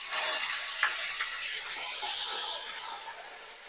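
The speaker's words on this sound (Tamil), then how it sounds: "இஞ்சி பூண்டு பேஸ்ட் ஒரு அரை ஸ்பூன் சேர்த்துக்கிறேங்க" Ginger garlic paste, about half a spoon, sizzles in a hot kadai while cooking mutton thokku, a steady bright hiss with a few soft stirring clinks, close and fairly quiet, no talking.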